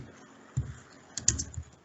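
A computer keyboard is typed on in a few sparse, quiet keystrokes, close and isolated clicks against near silence, with no voices.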